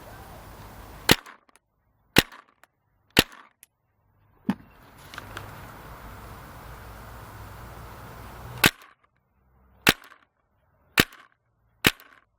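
Sharp, loud single shots from a paintball marker with a 12-inch barrel crack out one at a time at roughly second-long intervals, with a stretch of hiss between bursts.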